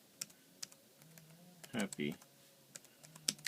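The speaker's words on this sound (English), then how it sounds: "Again, one-handed typing is a little bit more difficult." Someone types one-handed on an Arcadia IMP38B keyboard case for an iPad, giving scattered, irregular key clicks with a couple of louder bursts partway through, close by, while a voice briefly speaks.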